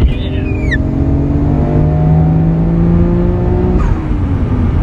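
An HKS-tuned Nissan Skyline R32 GT-R pulls hard through second gear, heard from inside the car as a loud, steady engine drone whose pitch climbs smoothly, then drops briefly at the shift.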